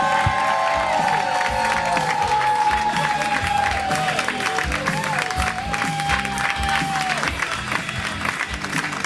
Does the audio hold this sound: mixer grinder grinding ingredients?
no